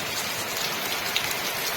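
Heavy rain pours steadily across the Sundarbans during a cyclone-driven downpour, a dense, even hiss of drops on foliage and surfaces with no voices, continuous and close for the whole stretch.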